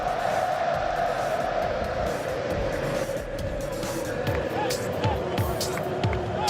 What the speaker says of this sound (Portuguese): E hoje tem essa reação da torcida, ó.